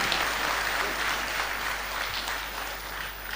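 An audience at the Mangaluru Police Habba 2022 festival applauds in a dense, steady wash of clapping that holds from start to finish without pause.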